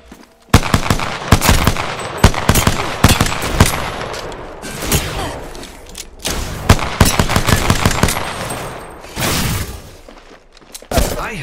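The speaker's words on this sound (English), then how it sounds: "enemies are shooting at me" Enemy gunfire in Apex Legends: dense, loud bursts of automatic shots and single cracks come in rapid clusters, pausing briefly before more volleys, with no talking.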